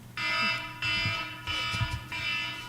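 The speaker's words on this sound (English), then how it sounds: "Red alert. That is the scariest one of all the alarms." Red alert alarm going off in a meeting room, a loud electronic tone sounding in four repeated bursts with short gaps, steady and piercing, with faint low room noise underneath.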